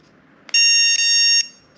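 A remote dog training collar in sound mode gives one loud, shrill electronic beep lasting nearly a second, close by against quiet room noise.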